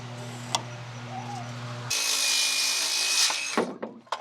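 A power saw cuts 2x4 lumber to length for a 10 x 12 shed wall: a low motor hum, then a loud, steady whining cut for about two seconds before it spins down, with no talking.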